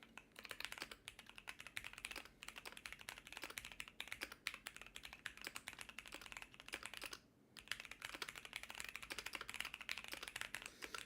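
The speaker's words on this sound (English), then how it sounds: "You can probably hear me typing away." Steady rapid typing on a computer keyboard, close and fairly quiet, with keys clattering continuously and a single brief pause partway through.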